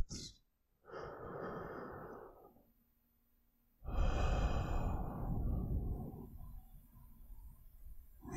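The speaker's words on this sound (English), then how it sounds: "take a few long, deep breaths" Two long, deep breaths taken slowly in a quiet, calm setting, each a soft sustained rush of air with a pause of silence between, close and gentle, alone without talk.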